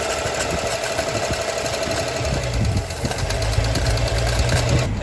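A 1955 GMC truck engine idles steadily after its fuel lines were cleaned out, with a continuous low rumble and rapid mechanical ticking. Midway the idle settles lower and heavier and keeps running evenly to the end.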